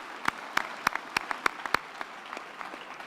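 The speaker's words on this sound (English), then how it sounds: "a hand of applause." Applause for graduates at a university graduation ceremony, with sharp, distinct hand claps standing out over a softer patter of clapping from the audience, which thins toward the end.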